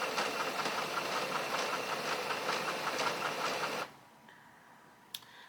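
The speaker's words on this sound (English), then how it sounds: "That noise is the ink initialization." An Epson ET-8550 printer whirs and hums steadily through its ink initialization cycle, a mechanical drone that stops abruptly, leaving near silence and one faint click.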